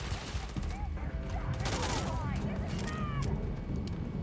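Continuous gunfire in a Starfield space battle, a dense roar of shots and booms layered with whistling and sweeping effects, loud and unbroken throughout, with a voice speaking over it.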